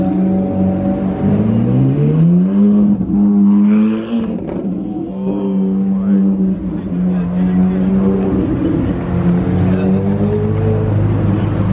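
A Ferrari at a car event on a bridge, revving and driving past with a loud, rising and falling engine tone that climbs as it accelerates, heard close and sustained.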